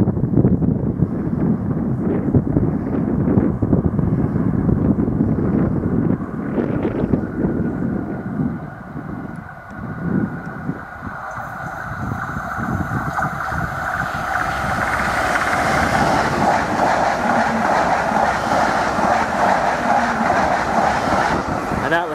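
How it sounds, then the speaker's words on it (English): A Class 745 FLIRT electric train speeds past, a loud rushing roar with rattling wheels and strong wind buffeting, the tone shifting and brightening as the carriages sweep by close. "looks like we've got another FLIRT unit which are about to be speeding past pretty shortly"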